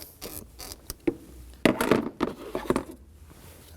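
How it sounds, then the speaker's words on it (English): A hose being worked off the vapor canister purge solenoid valve of a 2016-2020 Kia Sorento 2.4L with a hand tool, giving close, irregular plastic clicks, creaks and scraping bursts as it is wiggled side to side. "I'm gonna be using the same tool to remove the hose from the purge valve"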